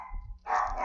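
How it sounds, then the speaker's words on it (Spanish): A dog barks a few times in a room, the barks fairly close and moderately loud over a low background hum. "porque está ladrando el perro"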